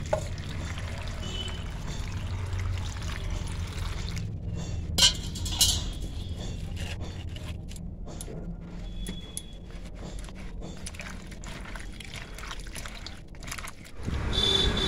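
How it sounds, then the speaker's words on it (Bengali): Water pours and trickles as mangoes are washed, with faint splashes and a few clinks of fruit against a container, steady and close throughout, then a louder rush of water near the end. "তো প্রথমে আমি জল দিয়ে আমগুলো ধুয়ে নিচ্ছি"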